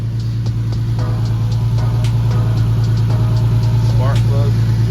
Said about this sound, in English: This is loud. I forget how big the exhaust is.